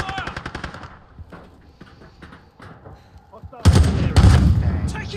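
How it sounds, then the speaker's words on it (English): Modern Warfare 2022 gunfire: rapid automatic shots at the start, then a quieter stretch, and finally heavy, loud sustained firing with explosions near the end. "I'm taking fire."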